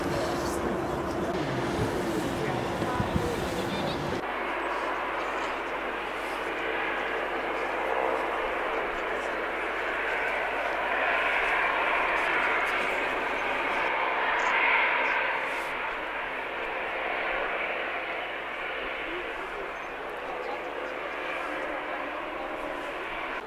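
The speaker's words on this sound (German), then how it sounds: "Die Maschine, von Frankfurt kommend, setzt zur Landung an." An airliner arriving from Frankfurt lands on the opening day of Kassel-Calden airport. A loud, sustained jet roar covers most of the stretch, heard at a distance, with some talk at the start.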